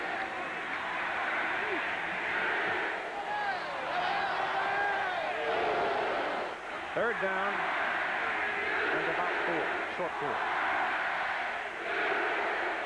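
Stadium crowd at a 1982 college football game between USC and Florida, jeering the Trojans: a loud, sustained roar of voices with rising whoops and swells under continuous play-by-play commentary.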